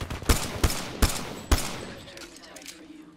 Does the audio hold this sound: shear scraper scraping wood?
no